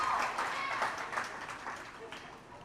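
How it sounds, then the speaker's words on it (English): Spectators applaud a diver at an indoor girls' high school swim and dive meet, Fargo South versus Fargo North, with scattered clapping that is strongest at first and gradually fades, mixed with a murmur of voices. "Rohde will come up, get the applause"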